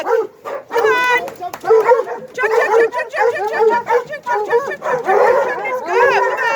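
Hunting hounds bark, yip and whine excitedly up close while being loaded onto a truck, a loud, busy chorus of overlapping calls with brief pauses.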